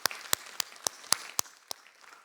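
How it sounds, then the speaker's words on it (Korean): Applause at a Korean church's Friday prayer service: seven crisp, evenly spaced claps ring out in a steady rhythm, fairly close, then stop, leaving quiet room tone. "우리 하나님께 감사와 영광의 박수 올려드립시다"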